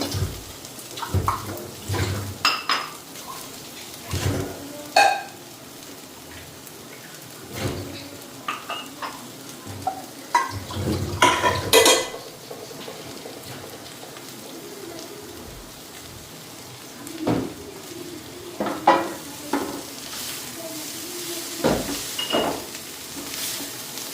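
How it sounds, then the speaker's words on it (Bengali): Cabbage stir-fries in a hot pan: soft sizzling under intermittent scraping and clattering of a spatula, in irregular bursts with quiet gaps. "তারপরে বাঁধাকপিটা দিয়ে দেবো"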